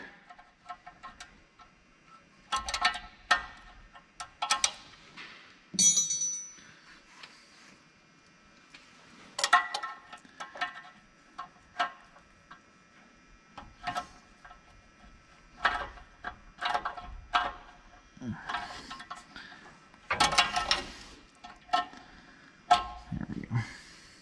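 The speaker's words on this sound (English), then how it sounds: "That's the problem with these style ratcheting wrenches that you have to flip over is, don't turn it back." Ratcheting wrench working bolts loose on a Mack A40 truck during an Allison transmission removal, giving irregular bursts of clicking with pauses between strokes, fairly close and moderately loud.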